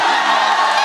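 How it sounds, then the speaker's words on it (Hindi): A stage show audience in Siwan cheers and shouts in a loud, dense burst of crowd noise, brief and continuous. "एक बार जोरदार ताली"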